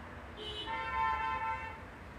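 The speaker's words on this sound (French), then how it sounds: "Les klaxons se déchaînent pour toi" Car horns blare faintly at a distance, overlapping tones that swell and fade over a couple of seconds amid low street rumble.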